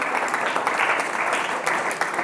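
Students at a government higher secondary school general-knowledge quiz on Constitution Day clap for a second-place winner, with dense, steady applause filling the room and a little speech mixed in.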